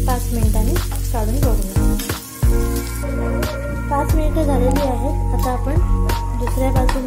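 Potatoes frying in a pan for a tandoori-style barbecue potato starter, turned over to cook on the second side. A dense close sizzle runs throughout, broken by repeated sharp clinks and scrapes from a utensil against the pan.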